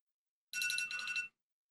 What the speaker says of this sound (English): Silence phone.